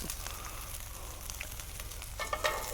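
Onions and peppers sautéing in a hot pan, a steady close sizzle with frying crackle and brief stirring scrapes near the end, no talk over it.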